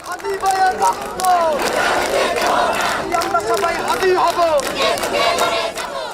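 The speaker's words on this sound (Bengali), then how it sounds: "বৃহস্পতিবার রাতভর মিছিল আর স্লোগানে উত্তাল ঢাকা।" A protest crowd in the streets of Dhaka at night shouts slogans in loud chanted waves, many voices rising and falling together in a dense, continuous roar close by.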